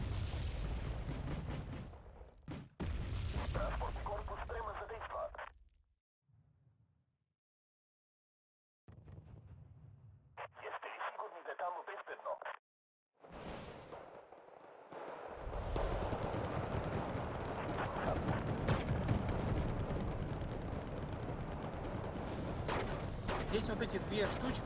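Gunfire and artillery in the Wargame: Red Dragon strategy game crack and boom in bursts, with heavy explosions and rolling battle noise, broken by brief silent gaps and mixed with talk.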